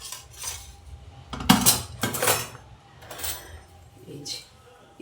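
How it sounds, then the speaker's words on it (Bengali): A spoon stirs and mixes food in a pot, with clinks and scrapes of metal against the vessel arriving in uneven bursts, close by, while someone talks between them. "এই চামচিটার মাধ্যমে ভালোভাবে এটাকে মিশিয়ে নিচ্ছি।"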